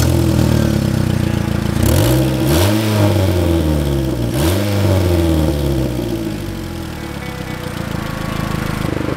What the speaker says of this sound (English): seems to be revving just fine and making power okay